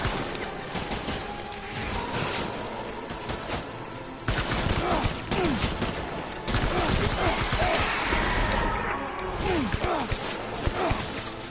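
Enemy gunfire in the video game Death Stranding: bursts of automatic and single shots crackle throughout, dense and loud, with horse hooves and whinnies mixed in and someone talking over the action.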